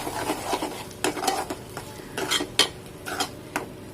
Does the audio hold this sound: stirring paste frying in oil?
yes